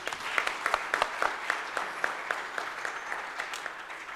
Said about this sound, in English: A round of applause for all panel members.